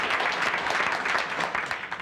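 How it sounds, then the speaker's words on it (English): Applause from a 1969 television talk-show studio audience, a brief burst of steady clapping from many hands, fairly loud and heard alone. "If you applaud, you only waste time that I could use talking to you."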